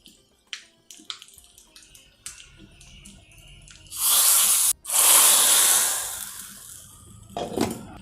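Mustard seeds and a pinch of asafoetida hit hot ghee for a tempering, crackling with sharp pops before breaking into a loud, sustained sizzle that cuts out briefly and then surges again.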